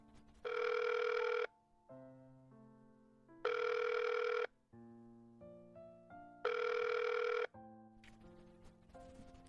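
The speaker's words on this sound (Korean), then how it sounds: "또 전화 오네." Telephone bell ringing loudly in three bursts of about a second and a half each, separated by pauses with soft background music, in a quiet indoor role-play setting.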